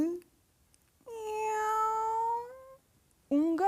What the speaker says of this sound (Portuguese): um gato que mia quando a panela está vazia